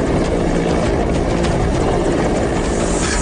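An Indian Air Force rescue helicopter hovering over floodwater at a dam, a loud, constant rotor and engine roar filling the scene with no pauses.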